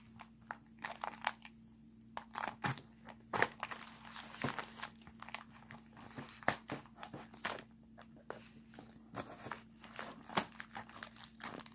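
Knife slicing packing tape on a cardboard package, a quiet run of sharp crinkling, ripping snaps and scrapes in irregular bursts, close up, over a faint steady hum.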